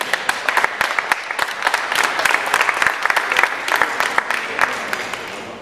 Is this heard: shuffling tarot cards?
no